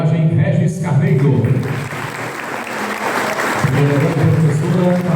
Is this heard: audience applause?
yes